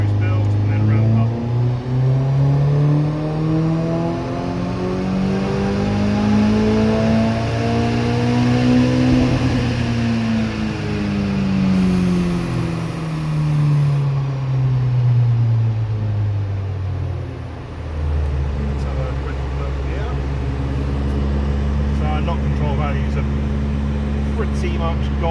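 A Vauxhall Astra H VXR with an EFR turbo conversion runs loud on a dyno, its engine note rising steadily through a long pull, then dropping back to a lower drone while someone talks over it.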